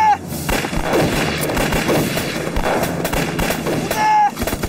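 Sustained heavy gunfire and artillery-like blasts in a war film ambush, loud and dense for the whole stretch, with a brief raised voice near the end.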